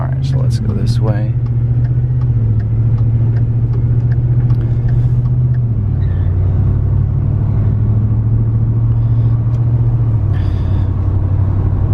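A first-generation Ford Raptor truck with a 6.2 V8 engine drives along, its low steady engine drone and road rumble heard from inside the cab, with a brief rev near the start and intermittent talking over it.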